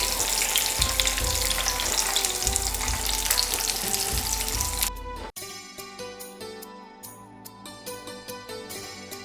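Chicken cheesy samosa lollipops fry in hot oil with a loud, dense, crackling sizzle for about five seconds, then the sizzle cuts off abruptly and quieter rhythmic tapping follows.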